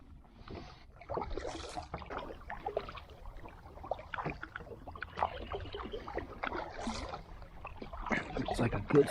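A kayak moves on Canyon Lake in Texas with soft paddle strokes, water splashes and hull knocks up close, while someone talks intermittently throughout.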